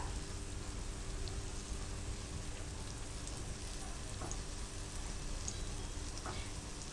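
Eggless shami kebabs frying in a pan make a continuous, dense sizzle and crackle, moderately close and steady from start to finish, with no one speaking.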